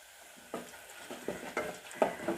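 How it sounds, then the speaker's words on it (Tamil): Onions, curry leaves and chili powder sauté in a pan for sambar, with a steady soft sizzle under about five sharp, close spoon scrapes and stirs, no talking. "அதையும் சேர்த்து நல்லா வதக்கி விட்டுக்கிறோம்"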